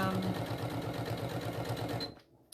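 A sewing machine stitches pleather without a walking foot, its fast steady needle rattle running close and loud for about two seconds before stopping abruptly.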